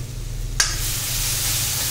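Spiced lentil mixture with salt and turmeric frying in a pan with little oil, a steady close sizzle that rises after a brief clatter of stirring.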